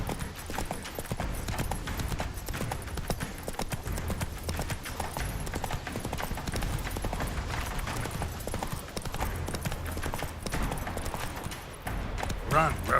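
Hooves of Roach, the horse in The Witcher 3, drum in a steady galloping rhythm under a continuous wash of game ambience, with a voice talking over it throughout.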